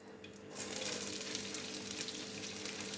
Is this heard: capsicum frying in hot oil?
yes